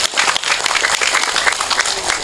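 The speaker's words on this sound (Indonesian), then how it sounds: "Tepuk tangan sepindah malih." Audience applause at a Javanese Islamic religious gathering (pengajian) during Eid al-Fitr takbir celebrations, a dense steady wash of many hands clapping at even loudness throughout, with no talk over it.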